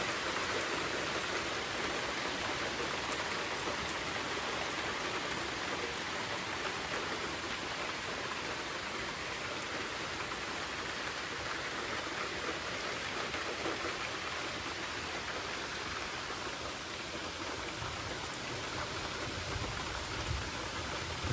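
Steady rain falls on open land in Texas, a constant broad hiss of drops on the ground and surfaces, moderately loud and unbroken for the whole stretch, with no voices.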